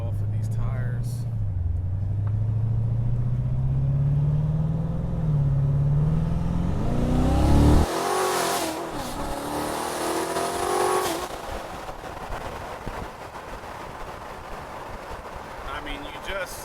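A 2016 Corvette Z06 with a built twin-turbo engine of nearly 1000 rear-wheel horsepower accelerates hard. Its engine note climbs loudly through the revs for several seconds, drops off sharply at a shift, then rises again before fading into road and wind noise.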